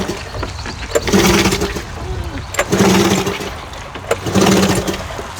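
A snowmobile engine is cranked and revved in repeated bursts, three rising surges separated by brief lulls, loud and close outdoors.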